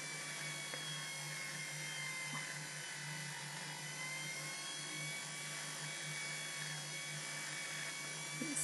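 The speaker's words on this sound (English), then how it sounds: "Just be a bit careful using the pendant motor that you don't flick it across your workshop." Pendant motor with a texturing bit working a domed metal locket in a workshop, giving a steady, continuous high-pitched whine with a low hum beneath it, close and even throughout, with no speech.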